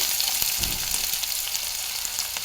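Chopped onion with green chillies and curry leaves fries in oil, a continuous close sizzle with a soft stir or two.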